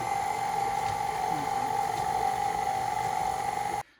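A stand mixer fitted with a paddle beats apple spice muffin batter in a steady, loud motor whir that runs without pause, then cuts off abruptly just before the end.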